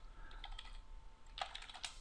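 Computer keyboard typing heard up close and fairly soft, a short cluster of key clicks, then a pause and a second quicker burst, with no talk.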